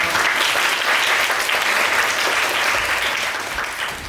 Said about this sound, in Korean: 박수로 신진욱 교수님을 모시도록 하겠습니다